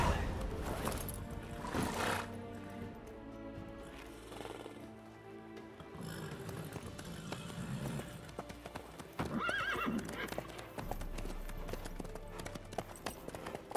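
Rhythmic hooves clop along steadily in The Witcher 3: Wild Hunt, with a horse whinnying and snorting at moments, all set against faint background ambience.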